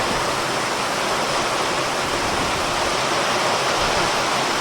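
A downpour of big raindrops in light wind makes a thick, unbroken rushing wash, loud and close throughout, with no voices.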